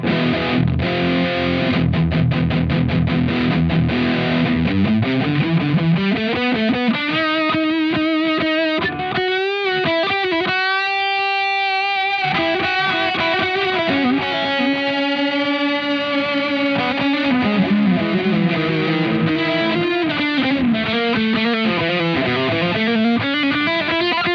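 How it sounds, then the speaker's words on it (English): Electric guitar, an SG, through a high-gain distortion amp channel, sustained saturated notes and bends with a brief pause midway, loud and continuous. "That's the distortion channel, high gain channel."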